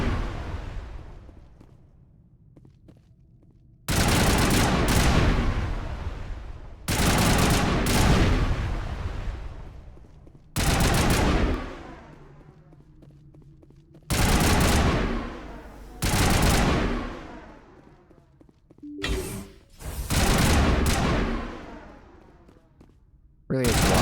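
Bursts of loud gunfire from weapons in the game Mass Effect, several sustained volleys of rapid shots separated by short pauses, close and dominant, with a voice talking between the bursts.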